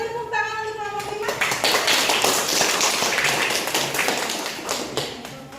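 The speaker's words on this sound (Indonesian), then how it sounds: "Kita beri tepuk tangan untuk kelompok 5." A classroom group applauds group 5 before its presentation, a dense burst of hand clapping that builds after a sustained tone at the start and continues steadily to the end, with some children's voices mixed in.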